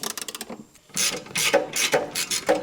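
A wrench ratchets close by while loosening the rear shock bolts on a VW Jetta, giving quick clicking bursts. Between them come a few louder grinding turns.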